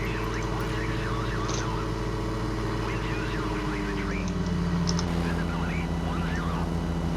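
A Ford Trimotor drones in Microsoft Flight Simulator 2020 during a short takeoff, its engines humming steadily and rising slightly in pitch, while a person talks over it.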